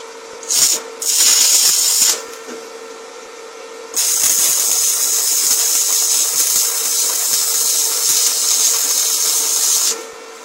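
Arc welding with a 2 mm stick electrode on a thin metal workpiece, giving a steady loud crackling hiss in two short bursts followed by a long continuous run.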